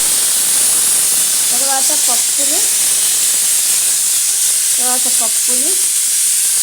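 A mixer grinder churns cucumber chutney ingredients with salt, cumin, curry leaves and coriander in a loud, unbroken whirring roar, with a voice speaking briefly over it twice.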